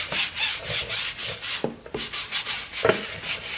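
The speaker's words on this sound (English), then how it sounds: "So now we're going to take a tire brush." A tire brush scrubs a rubber tyre coated with all-purpose cleaner, giving close, rhythmic rubbing strokes that repeat steadily with a few brief knocks and no talking.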